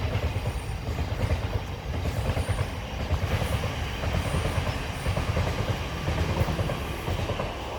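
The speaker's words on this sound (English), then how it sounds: "It's a train." A passing train rolls by steadily, with a low rumbling drone and rhythmic clickety-clack of wheels over rail joints, fairly close and continuous without speech.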